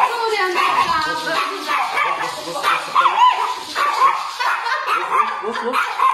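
Dogs barking and yipping at a busy outdoor spot in Portugal, with people talking and laughing throughout, the barks mixed in under the chatter and crowd noise.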